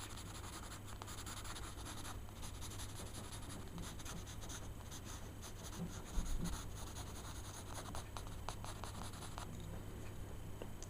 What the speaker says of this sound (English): I'm just sketching really quick